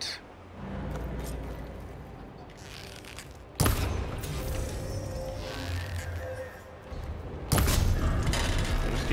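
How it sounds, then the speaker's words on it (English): Gunfire aimed at the stuck Gaia repository pod in Horizon Forbidden West: dense mechanical clatter and rumbling bursts, with two sharp loud impacts breaking through, continuous and close throughout. "Just keep shooting this thing."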